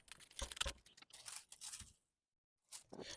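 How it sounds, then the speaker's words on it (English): Thin mylar film is torn away from a machine-embroidered bee block. The tearing comes close up in a few short crinkly rips and crackles, then a pause and one more tear. "I will remove the first layer of mylar by tearing around each of the wings."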